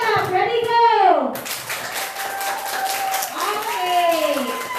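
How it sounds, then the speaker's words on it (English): A classroom of students performs a rhythmic sabong clap after a class debate, with sweeping vocal whoops and chanting voices followed by a run of rapid, steady claps. "let's give them a sabong clap"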